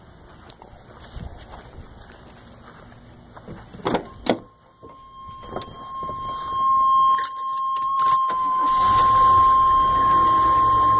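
A 1985 Buick LeSabre with a fairly new battery gives a few clicks and knocks, then a rising whine as the engine cranks and catches, settling into a loud, steady idle close by.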